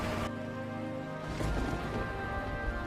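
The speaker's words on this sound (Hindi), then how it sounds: "और बहुत तेज बारिश शुरू हो जाती है।" Heavy rain in an animated cartoon pours as a steady, dense hiss, continuous and alone, with a soft rumbling swell partway through.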